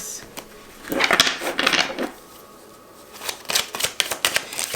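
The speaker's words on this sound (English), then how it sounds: "I get the feeling I have to shuffle this." A deck of tarot cards being shuffled by hand nearby, with two separate bursts of riffling and rustling divided by a short pause and no talking.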